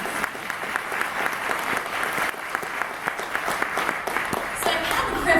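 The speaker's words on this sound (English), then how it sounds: "Could we give our MC another big round of applause?" Audience applause at an 8th grade graduation ceremony, a sustained, moderately loud round of clapping from a crowd, steady throughout with a voice surfacing near the end.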